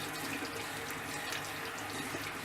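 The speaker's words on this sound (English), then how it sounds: "I rinsed off my hand and the brushes." Steady tap water running into a sink while a hand and makeup brushes are rinsed, a continuous close splashing hiss that stays even throughout, with no talking.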